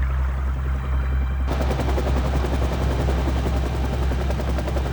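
Steady helicopter rotor chop, loud and close, a dense rapid thumping with a low engine drone underneath, continuous throughout.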